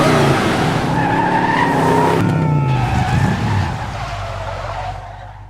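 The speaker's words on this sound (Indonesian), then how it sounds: "Ia melakukan drift di tempat itu." A car drifts on a runway with loud, sustained tire squeal and skidding over a roaring engine, close and intense, then fading slightly toward the end with no talk.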